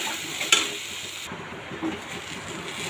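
A sweet filling with sugar and garam masala fries in a pan and is stirred, with a soft steady sizzle, one sharp utensil scrape near the start and quieter frying afterward.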